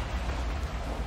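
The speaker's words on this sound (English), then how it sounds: "it's raining in the game and raining outside too" Rain in the video game Little Nightmares 2, a dense, steady patter with a low rumble underneath, fairly quiet and alone.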